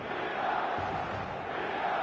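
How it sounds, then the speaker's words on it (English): A dense, steady roar of a stadium crowd in the eFootball match-day atmosphere, a continuous wash of cheering with no break. "This crowd doesn't do ordinary, and we should be in for something very special."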